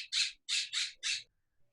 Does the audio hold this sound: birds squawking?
yes